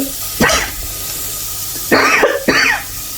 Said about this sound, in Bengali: হঠাৎ করে কাশি চলে আসে।